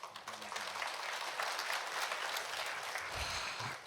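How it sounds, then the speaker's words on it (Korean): A church congregation at a Korean Baptist dawn prayer service applauds to welcome a pastor to the pulpit, a steady, moderately distant wash of many hands clapping with no voices over it. "나오실 때 큰 박수로 환영해 주십시오."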